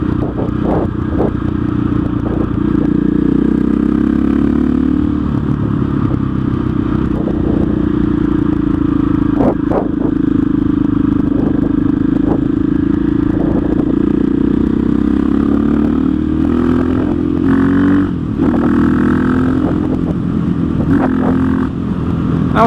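A KTM 660 SMC single-cylinder motorcycle engine drones loudly and steadily while riding, its pitch rising and falling through gear changes. Wind roar and a few clicks and clatters sit over the engine throughout.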